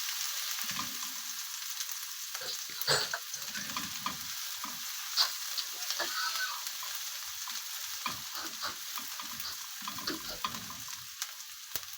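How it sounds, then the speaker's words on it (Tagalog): Garlic sizzles steadily in a hot pan while being stirred, with soft scraping strokes and occasional clinks of a utensil breaking through the continuous frying hiss. "halo-haloin lang natin guys yung bawang"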